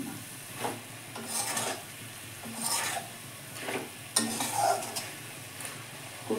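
Prawns and ash gourd are stir-fried in a pan, with repeated scraping strokes of a spatula over a steady sizzle, close and clear.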